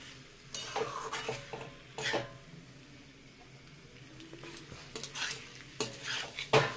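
Small new potatoes being stirred and fried in a pan, with intermittent scraping clinks of a spoon against the metal over a faint sizzle, close up and without talking.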